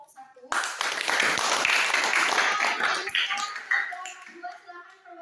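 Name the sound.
class applauding a group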